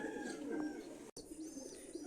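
Caged pigeons, a pair of young black-backed birds, coo softly and steadily near at hand, with a brief break in the middle and no voices.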